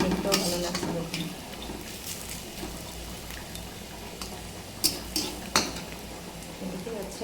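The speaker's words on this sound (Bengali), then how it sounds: "এদিকে হচ্ছে বিট ভাজা।" Beetroot, potato and peas frying in a pan for a Bengali vegetarian dish, with a steady close sizzle under scraping stirs and a few sharp spatula knocks near the end.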